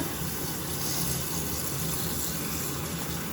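Water is poured into a pot of cut pumpkin, a steady close rushing gush of liquid lasting a few seconds with no speech.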